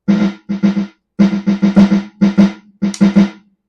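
Soft strokes on Alesis Nitro Max electronic drum pads, short bursts of close, quiet rapid taps separated by brief pauses, with a brighter accent near the end.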